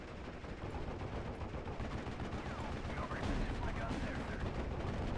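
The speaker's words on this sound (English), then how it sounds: "Mortars are opening fire on that one." Mortar fire and other battle noise from the WWII Normandy strategy game Steel Division: Normandy 44, a steady dense rumble of distant explosions and gunfire running continuously for the whole stretch with faint talk underneath.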